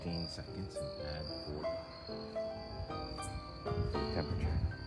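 Crickets chirp at night in a steady, close chorus, with a thin ongoing trill under scattered other night noises.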